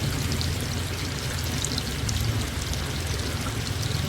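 Water of a flowing creek rushes and splashes continuously close by as someone wades through it, a dense pouring wash with no speech.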